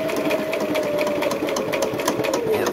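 A sewing machine stitches a fabric face mask, running in a close, steady mechanical whir with rapid rhythmic needle clatter that keeps going throughout without pause.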